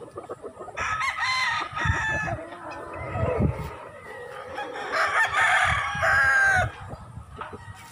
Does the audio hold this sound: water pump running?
no